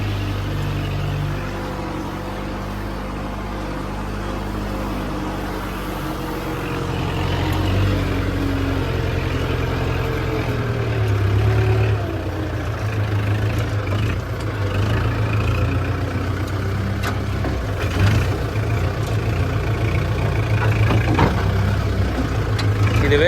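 A John Deere 5075E tractor pulls through a muddy field with its engine droning steadily. The engine labors, swelling and easing in intensity over a constant low rumble, and no speech is heard.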